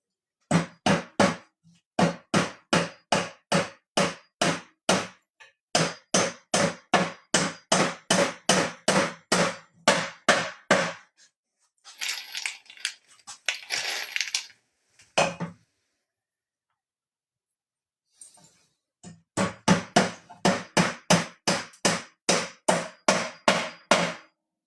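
Steady, loud hammer blows driving nails, regular sharp strikes in long runs with a pause and some shuffling in the middle, close and without talk.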